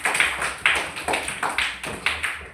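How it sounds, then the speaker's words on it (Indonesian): Students in a classroom clap in a steady rhythm, about a dozen crisp, close claps in quick, even succession. "Iya, betul, tepuk tangan."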